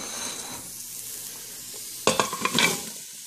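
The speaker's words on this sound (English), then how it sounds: "we're going to want to add our potatoes and our apples." Potatoes and apples are tipped into a spice-coated Instant Pot pumpkin soup, a sudden clatter and splatter of pieces landing in the pot after a soft sizzle.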